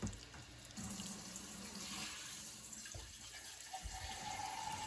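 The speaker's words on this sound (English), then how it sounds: "Make sure you fill this up with some water" Water from a kitchen tap running into a cooking pot while Jamaican curry goat is prepared, a quiet steady splashing flow with small shifts as the pot fills.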